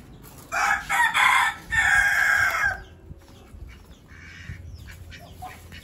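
Chickens crow and cluck loudly in a few bursts over the first three seconds, then quieter clucking and barnyard rustle continue in the background.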